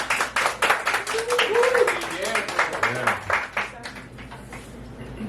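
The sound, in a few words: audience applause at a poetry reading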